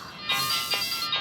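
A mobile phone rings with a bright electronic ringtone, a short repeating melody of tones that plays loud and close with no voices over it.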